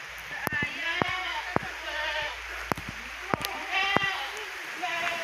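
Several sheep bleat in wavering cries, some close and some a little farther off, over a steady outdoor background with a brief splashing sound.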